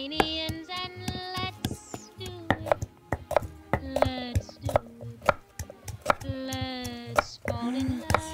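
A knife chops quickly and steadily on a cutting board, slicing an ingredient for spicy stir-fried pork in a rural kitchen. Chatter and a bleating-like voice sound under the rhythmic cutting.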